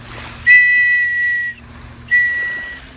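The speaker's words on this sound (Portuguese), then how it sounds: "Tem esse apito para você pedir socorro com esse apito." Two loud, shrill blasts from an emergency whistle attached to a life jacket, the first lasting about a second and the second starting after a short pause, with no talking.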